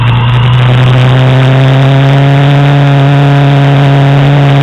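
A Rocket 3 motorcycle engine runs close and loud with a steady, deep, throbbing drone throughout, holding a fairly even pitch with no clear rise or fall.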